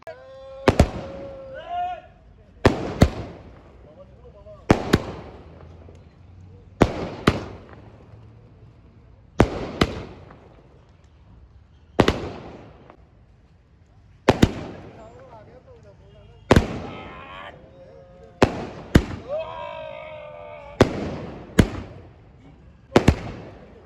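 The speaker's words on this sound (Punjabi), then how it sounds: "ਇਹਨਾਂ ਤਸਵੀਰਾਂ ਵਿੱਚ ਵੀ ਦੇਖਿਆ ਜਾ ਸਕਦਾ ਹੈ ਕਿ ਕਿਵੇਂ ਇਹ ਪਟਾਕੇ ਚਲਾਏ ਜਾ ਰਹੇ ਨੇ" Sharp firecracker bangs go off outside liquor shops at irregular intervals, about a dozen loud cracks with people talking faintly in between.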